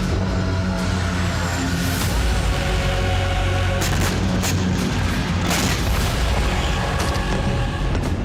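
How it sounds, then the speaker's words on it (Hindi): Deep booms and blasts from Israeli air strikes on Beirut, including near the airport, roll through a dense, noisy background, with several sharper thuds and crackling impacts standing out over about eight seconds. "इजरायली एयरफोर्स ने बेरूत एयरपोर्ट के पास भी कई विस्फोट किए।"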